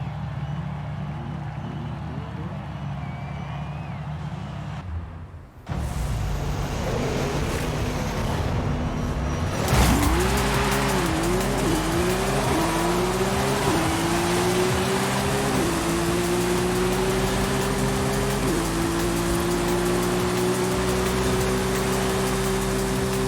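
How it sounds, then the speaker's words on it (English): A Koenigsegg accelerates in Forza Horizon 5, its engine note climbing in pitch through several rising gear pulls over a dense rushing backdrop, loud and continuous, with no talking. "Wow, that Koenigsegg gets up to speed."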